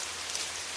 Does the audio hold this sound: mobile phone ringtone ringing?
no